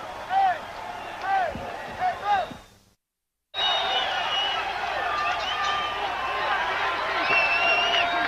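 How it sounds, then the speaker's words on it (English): Boxing crowd roaring between rounds at an Arguello vs Palomares fight, a broad arena din with a commentator talking over it, cut by a brief dropout before the crowd noise resumes. "The crowd loves it"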